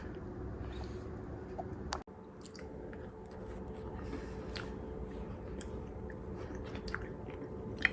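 Soft, moist chewing of a strawberry scone dipped in strawberry jam continues close up for several seconds, with faint squishy bites and light background noise.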